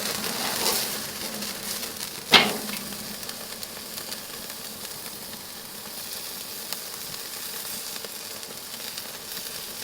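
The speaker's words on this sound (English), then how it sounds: "get it onto that Jealous Devil and get that good sear that we're looking for" A rack of lamb sears over Jealous Devil charcoal with a steady, close sizzling hiss, punctuated by one sharp crackling burst early on before it settles back to an even sizzle.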